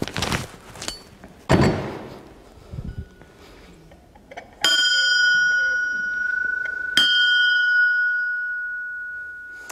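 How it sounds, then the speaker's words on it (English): A heavy bronze bell cast as a Venus bell is struck twice, each loud clear strike ringing out into a long, shimmering tone that slowly decays, after some earlier handling knocks and thuds. "And now I can ring the bell. It's heavy, it's bell bronze."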